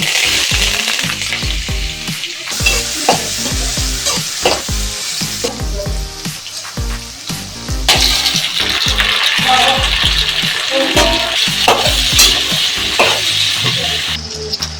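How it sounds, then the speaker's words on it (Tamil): Mustard seeds, onion and curry leaves frying in hot oil in a kadai for a South Indian tomato gravy, loud close crackling and spluttering with rapid popping seeds and repeated stirring clatter throughout. "கடாயை வச்சுட்டு எண்ணெய் காய்ச்சிருச்சு, கடுகு போடுறேன். வெங்காயம், கறிவேப்பிலை"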